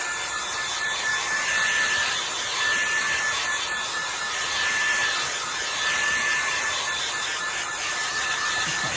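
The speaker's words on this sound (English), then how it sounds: "So I'm going to go ahead and dry this, and then I'll show you what to do next. Okay, my hairdryer is over here." A hair dryer blowing steadily on a watercolor street-scene painting, a continuous airy whir with a faint high whine, gently rising and falling as it moves over the paper, with no talking.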